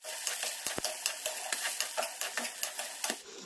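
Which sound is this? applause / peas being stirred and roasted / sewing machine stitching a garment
peas being stirred and roasted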